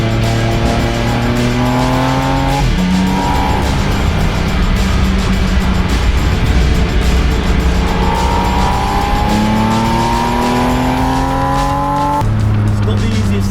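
Porsche Spyder RS sports car engine roaring loud and close with a manual gearbox, revs climbing steadily then dropping sharply at two gear changes before climbing again, with no talk over it.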